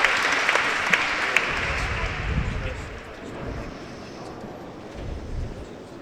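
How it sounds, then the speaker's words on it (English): Crowd noise at a high school girls' bowling semi-final, a steady bustle of murmuring spectators with a few sharp claps and pin-like knocks early on, with light applause swelling midway and again near the end. "The crowd is just bustling, Michael, as they're watching the bowling go"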